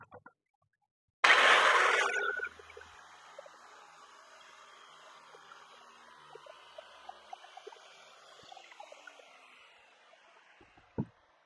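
A power saw makes a final pass through cement board for a 1/4 inch cut on a ship lap wood stove heat shield: one loud, harsh burst of about a second, then a low lingering whir with faint clicks.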